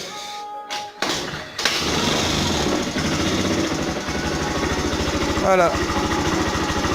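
A V-Clic 50 scooter engine catches after a few faltering tries and settles into a loud, steady, rattling run, with a brief voice heard near the start.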